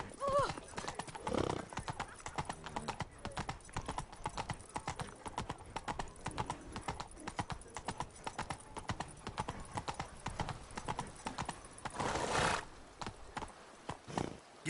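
Horse hooves clip-clopping at a steady trot while riding in The Witcher 3, a continuous rhythmic patter of hoofbeats with a brief whinny partway through, close and moderately loud.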